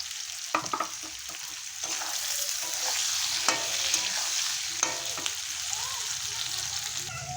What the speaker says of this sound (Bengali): আলু গাজর ভালো করে ভাজা হয়ে গেছে, এখন আমি মটরশুঁটি দিয়ে দেবো পনিরের জন্য।